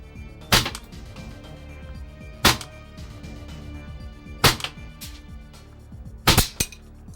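A Vorsk VMP-1 airsoft gun fires sharp, snappy shots close by, mostly single and spaced about two seconds apart, with a quick double near the end. Faint mechanical handling noise fills the gaps.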